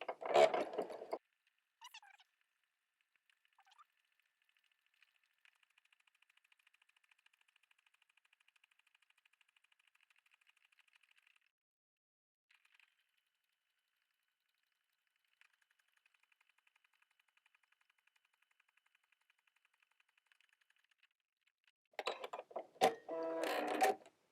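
A sewing machine stitching a buttonhole on a shirt runs as a faint, steady mechanical whir in two stretches with a pause between, and a person talks briefly before and after.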